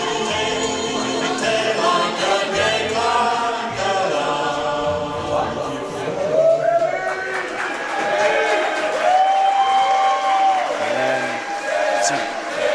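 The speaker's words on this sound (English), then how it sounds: "the crowd showing their appreciation" A live pro wrestling audience cheers, claps and whoops in a packed venue, a sustained loud roar with shouts rising and falling, while music plays and a commentator's voice comes through in places.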